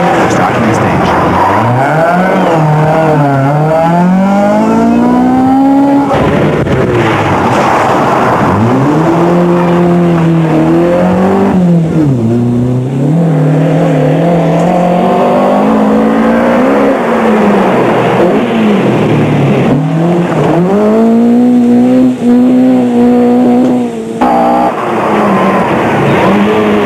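Rally cars race flat out on a stage of the 1982 Circuit of Munster, engines revving hard and shifting through gears, loud and close, with a commentator talking over most of it.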